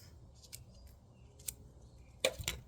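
Scissors snipping plant stems for propagation, a few quiet, sharp cuts spaced apart, with a double snip near the end over a low background hum.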